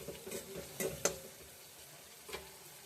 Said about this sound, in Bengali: এবার পোস্ত আর 4 মগজটা দিয়ে সামান্য কিছুক্ষণ নাড়াচাড়া করে নেব।